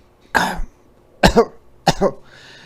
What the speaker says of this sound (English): But suddenly she heard a cough.